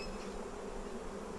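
Honeybees buzz steadily during a hive inspection, a close, continuous drone of many bees with no talking.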